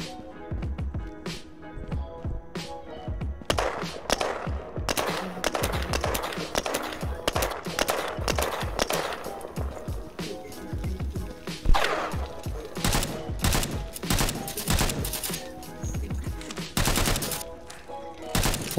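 Gunfire in the online survival game Will to Live Online: rapid bursts of automatic fire and single shots, loud and near, with thuds throughout, continuing almost without pause.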